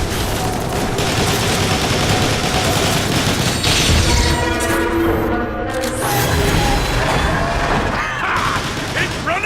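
Sustained, rapid gunfire aimed at a boss's mouth in Transformers: War for Cybertron, a loud, dense barrage with booming blasts and mechanical clatter, voices briefly heard amid the shooting.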